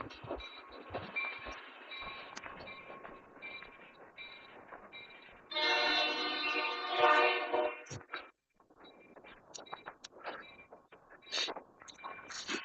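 A small freight train pulling tankers rumbles past at a distance in a snowstorm in Columbus, a steady rolling drone with a louder swell midway, then intermittent rattles and clicks as it fades.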